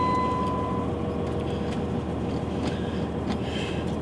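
A 1998 Dodge Ram 3500 dually with a Cummins 12-valve turbo-diesel settles into a steady, rumbling idle just after starting, with a low continuous drone and faint clattering throughout.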